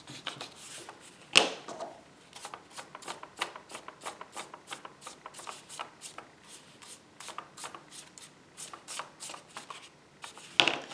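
An eraser rubs pencil lines off journal paper in quick repeated strokes, a soft scratchy rhythm that is quiet and close, with a couple of sharper taps.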